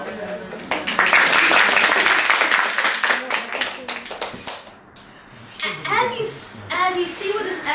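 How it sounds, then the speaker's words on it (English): A brief, light round of clapping from a small group, fading out, followed by people talking. "Right, small hand of applause."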